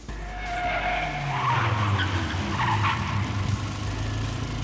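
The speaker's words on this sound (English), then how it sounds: "The rear tire slipped. The car spun in a circle." Car tires skidding and squealing as the car spins in a circle in the Steins;Gate 0 video game, a loud sustained screech rising and wavering over engine rumble for several seconds.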